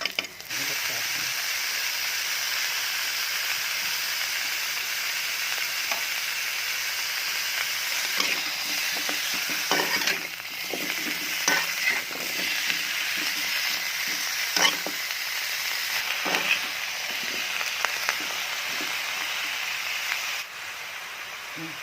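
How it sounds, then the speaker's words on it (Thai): Aromatics stir-frying in hot oil for a vegetarian dry jap chai, a steady close sizzle running throughout with scattered clicks and scrapes of stirring and faint background talk. "เอาไปผัดไปทอดน้ำมันก่อนนะคะ ให้ให้ออกกลิ่นก่อน"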